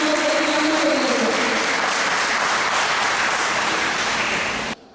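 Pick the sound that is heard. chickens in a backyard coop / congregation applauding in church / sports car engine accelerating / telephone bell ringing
congregation applauding in church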